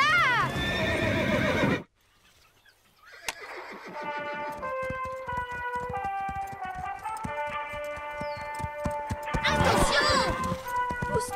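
A cartoon horse terrified by a storm lets out a loud, shrill whinny, then hooves clatter under a melodic music score before another frantic neigh rises near the end.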